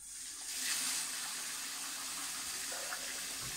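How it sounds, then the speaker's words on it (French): Sticky rice being washed in water, with a steady rushing, splashing flow like a running tap filling a bowl, fairly close and continuous throughout. "Il faut d'abord laver le riz 3 à 5 fois jusqu'à ce que l'eau devienne transparente."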